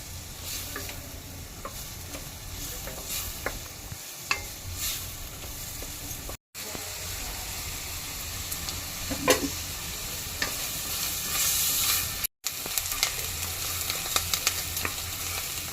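Onions sizzle continuously in a pan as they are sautéed for pav bhaji. A spoon stirs and scrapes throughout, with two very brief cuts in the sound.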